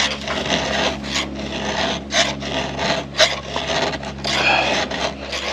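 A chainsaw's rakers being hand-filed while cutting and splitting firewood, heard as steady raspy scraping strokes of the file over metal repeating in a rhythm, close by with a low hum beneath.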